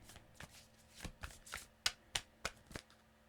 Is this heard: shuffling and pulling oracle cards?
yes